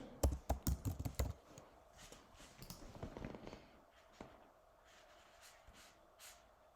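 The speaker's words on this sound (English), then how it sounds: "Let's type in Compound." Computer keyboard typing: a quick burst of sharp key clicks at the start, followed by softer, scattered taps and faint breathing, quiet and close, with no talk.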